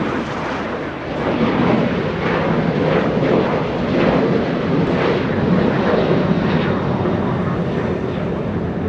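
Alaska Airlines Boeing 737 jet taxiing at Los Angeles International Airport, a loud steady engine roar with broad rushing noise and wind buffeting, continuous throughout.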